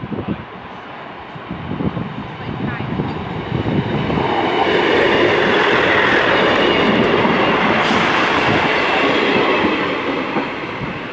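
ScotRail Class 158 diesel unit 158871 passing Skerne Road level crossing in Driffield, a loud close rumble building to a broad roar with rhythmic rail clatter as it goes by, then easing slightly at the end.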